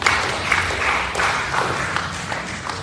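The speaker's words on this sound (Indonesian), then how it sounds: "Beri tepuk tangan dulu buat dia." A church congregation at a Sunday service claps together in a dense, steady patter of many hands that pulses slightly as it carries on, with no voices over it.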